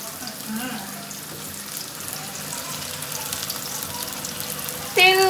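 Onions frying in oil in a pan for haleem, a steady close hiss and crackle that continues evenly, with a sharp louder clatter at the very end.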